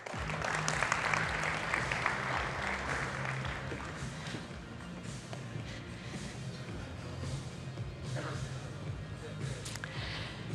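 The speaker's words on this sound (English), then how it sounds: "Please give them a round of applause." Audience applause at an energy-sector panel discussion, a burst of clapping at the start that gradually thins out, with people talking underneath; moderately faint and roomy.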